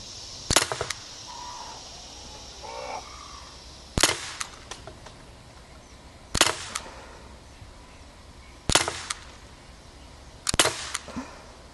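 A Daisy Powerline 5501 CO2 BB pistol fired at a target, five sharp close cracks spaced a couple of seconds apart, each with a brief metallic ring, in a quiet outdoor setting.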